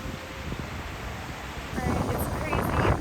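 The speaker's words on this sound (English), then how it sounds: "The wind just like got wild." Strong gusty wind buffets the microphone outdoors during heavy rain at a campsite in New Zealand, a rough roar that swells louder in the second half.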